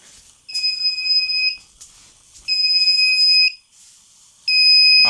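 A fire alarm panel with a trouble condition beeps in three steady, evenly spaced electronic tones, each about a second long, close by in a quiet room with no talk.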